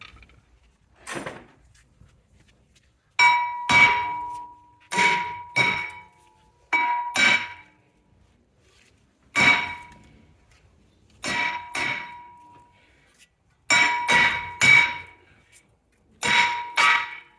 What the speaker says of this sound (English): our rotor needs some extra force to get it to come off because it's got some rusty crusty there